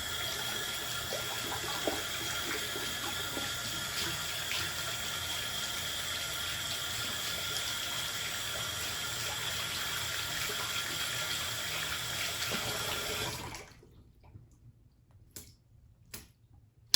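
Tap water runs to wet a shaving brush at a sink, a steady close rush of flow for about thirteen seconds before it shuts off, followed by a few faint drips and handling sounds.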